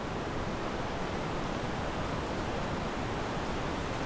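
Steady, dense rushing roar of a waterfall along a trail in the Columbia River Gorge, continuous and close throughout with no talk.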